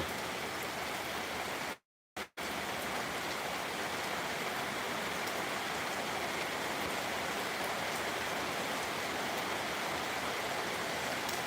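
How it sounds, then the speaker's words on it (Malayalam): Summer rain falls steadily outside, a dense, continuous wash of drops that keeps an even level apart from one brief silent break near the start, with no voices. "പുറത്തു പോകാൻ പറ്റാത്തൊരവസ്ഥ ഇരിക്കുകയാണ് മഴ ആയതുകൊണ്ട്"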